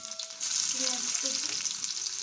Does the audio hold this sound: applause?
no